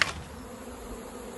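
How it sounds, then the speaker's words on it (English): Honey bees buzz around a beehive at a plant nursery on a hot day, a faint, continuous drone with a brief louder buzz at the start. "I'm just going to check on my bees. They seem very busy."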